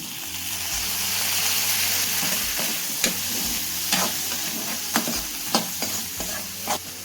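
Tomatoes fry for a green gram curry, with a constant close sizzle in the pan. A spoon scrapes and stirs the pan in sharp strokes every second or so.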